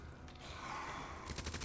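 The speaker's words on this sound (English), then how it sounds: "Why don't you use the submachine gun?" Submachine gun fire in the Resident Evil 2 video game: a quick rattling burst of automatic shots near the end, after a quieter stretch of in-game ambience.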